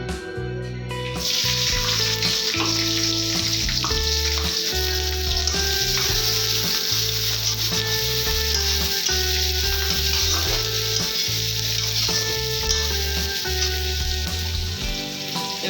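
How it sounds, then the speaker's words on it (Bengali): Chopped onion, green chili and garlic tipped into hot oil burst into a loud, dense, continuous sizzle that stays strong and close the whole time, with no voices. "পেঁয়াজ কাঁচামরিচ আর হচ্ছে রসুন আছে এখানে কাটা আমি এগুলো গরম তেলে দিয়ে দিচ্ছি"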